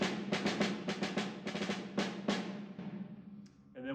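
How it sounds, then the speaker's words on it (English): A snare drum from a drum set, a shallow metal shell with wires stretched across the bottom head, played in a quick run of sharp, crisp rattling hits that fades out near the end. "That's a shallow metal drum in this case with some wires on the bottom."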